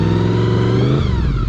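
A motorcycle engine runs loud and close while the bike is ridden, chugging along at a steady, rumbling idle-like pace with a continuous throaty drone throughout.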